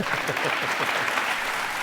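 A studio audience at a televised courtroom-style talk show breaks into steady, dense applause, many hands clapping together loudly and without pause.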